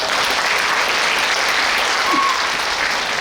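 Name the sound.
audience applause welcoming host at book concert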